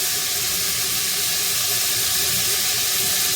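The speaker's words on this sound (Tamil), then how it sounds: "வெட்டி வச்ச தக்காளி சேர்த்துட்டு அப்படியே சொதும்ப வதங்க விட்டு" Chopped tomatoes sauté in a pan with a loud, steady hiss of steam and sizzle, continuous and close throughout with no talk over it.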